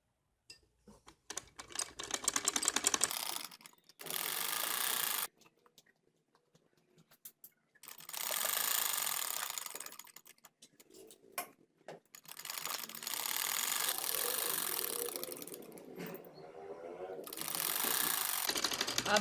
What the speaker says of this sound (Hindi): इस हिस्से को मैं सिलाई लगाऊंगी।